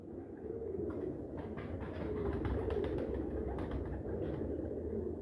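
Pigeons cooing at a breeder's loft, a soft, continuous low murmur of coos filling the space, steady and moderately close with no talking.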